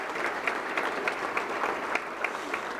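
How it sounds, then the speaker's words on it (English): Audience applause at a fire department awards ceremony honoring a Life Rescue Award recipient. Steady, dense clapping fills the room throughout, with a few sharper claps standing out near the start and middle. "how about a big round of applause for Ian?"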